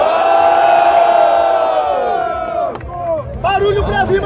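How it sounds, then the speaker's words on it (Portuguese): A loud crowd at a freestyle rap battle roars and cheers with sustained shouting, fading slightly before a fresh burst of whoops and yells. "Barulho pras rimas do Moeda Treta"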